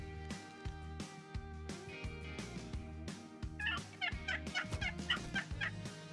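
A big flock of wild turkeys gobbles nearby, first in scattered bursts and then in a dense, overlapping chorus of rattling calls over the second half, with no talking.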